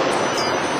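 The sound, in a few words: airport train moving in Chicago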